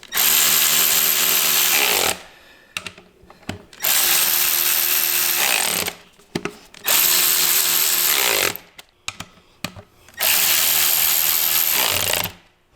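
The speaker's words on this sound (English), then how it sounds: "we're just going to use an electric ratchet just to help sink down all these bolts" Electric ratchet spinning down bolts on a KMC XD231 beadlock wheel ring fitted with a Cooper STT Pro tire, four loud close bursts of about two seconds each, separated by short pauses with light clicks.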